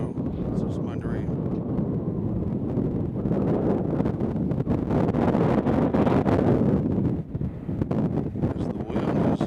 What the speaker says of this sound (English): As the wind is picked up out here.